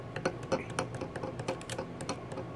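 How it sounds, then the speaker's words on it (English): Quiet typing on a computer keyboard, an irregular run of light key clicks close by over a soft room background. "I guess I'll just type."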